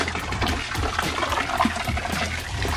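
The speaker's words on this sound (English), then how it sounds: "this old water will be removed from this tank, and this new water is filling in" Fresh water pours steadily into a fish tank, a constant close bubbling rush with a broad, even loudness and no voices.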